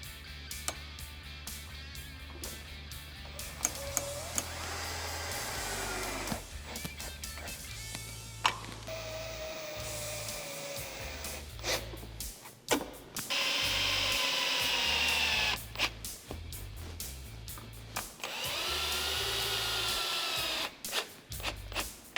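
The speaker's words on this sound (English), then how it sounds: "I have a Phillips bit here on my drill and a 10mm wrench" A drill fitted with a Phillips bit tightens the hardware on a glass windshield on a Polaris RZR Pro XP, with repeated whirring bursts of the motor, some short and some held for several seconds, over background music.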